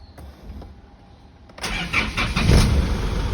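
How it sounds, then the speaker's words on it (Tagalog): An Isuzu D-Max pickup engine cranks and catches after intake system cleaning, the starter whirr at 1.6 seconds swelling into a loud, steady rumble that stays close and alone. "And we're going to start the engine."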